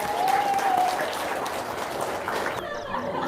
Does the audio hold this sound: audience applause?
yes